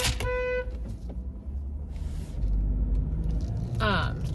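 A car horn honks briefly at the start and again near the end, sharp tonal blasts over a low traffic rumble, with a quiet stretch of road noise between.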